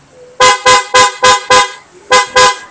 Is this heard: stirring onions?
no